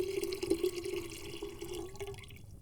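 Drinking water trickles into a cup, a close, soft pouring stream that runs for a couple of seconds and tapers off, with no talking.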